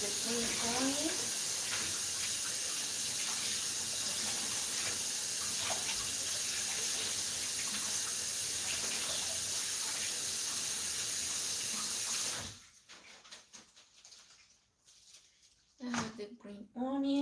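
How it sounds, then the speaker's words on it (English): Tap water runs steadily from a kitchen faucet while green onions are washed under it, a broad continuous hiss that cuts off abruptly near the end, leaving quiet room tone and a brief voice. "I'm gonna wash the green onion."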